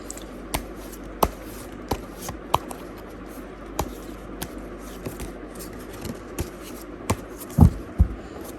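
Tarot cards being shuffled by hand at close range, a run of soft riffling taps and crisp flicks at an irregular rhythm, ending with a couple of louder rustling slaps, with no talking.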